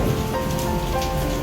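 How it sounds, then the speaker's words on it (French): Heavy rain pounding down outdoors, a dense, continuous patter of drops striking surfaces, steady and close for a short burst. "Il pleut très fort."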